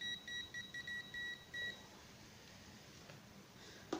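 A Banggood MT110 digital multimeter sounds its continuity beeper in a quick run of short, faint, high-pitched electronic bleeps that lasts under two seconds, followed by quiet room hum.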